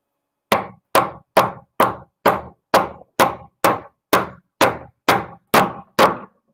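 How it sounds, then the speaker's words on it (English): Hammer blows drive a nail into wood, thirteen hard, evenly spaced whacks in a steady rhythm, each a sharp close knock with a short ringing decay, no talking. "she can continue hammering. Now this is a point where you just whack away."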